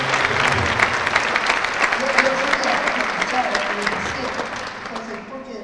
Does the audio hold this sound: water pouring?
no